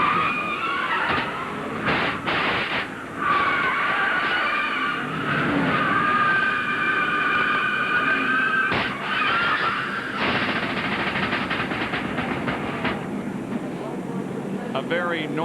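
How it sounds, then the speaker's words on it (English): A NASCAR Winston Cup stock car crashes at Atlanta Motor Speedway, heard from the onboard camera as loud, continuous grinding, scraping and skidding with sharp metallic bangs over roaring engine noise, lasting the whole stretch. "A very noisy and a very violent wreck."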